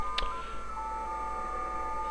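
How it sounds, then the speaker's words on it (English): JT65 digital-mode radio transmission: a faint steady tone that steps in pitch, picked up over a hissy background, with a brief click near the start and no talking. "So that's the sound of JT65."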